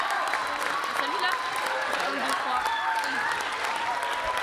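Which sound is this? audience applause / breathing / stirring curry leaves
audience applause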